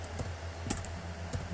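Code being typed on a computer keyboard: a few quiet, close key clicks at irregular intervals over a faint steady hum.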